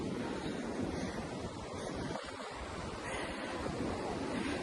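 Ocean surf washing onto Seminyak beach in Bali as the tide comes in, a continuous broad rushing wash of waves mixed with wind buffeting the microphone, steady and fairly loud.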